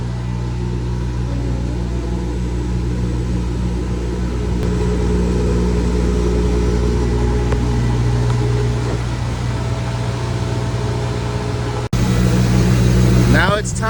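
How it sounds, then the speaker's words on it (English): The top blast wheel of a shot blast machine runs during a test, producing a loud, steady, low mechanical roar and hum that stays constant for several seconds before a brief click and a short shift in tone near the end. "Now it's time to test the top blast wheel."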